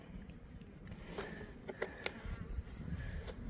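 Faint, low buzzing of honeybees around hives in an apiary, a soft continuous hum with occasional brief closer passes and small knocks.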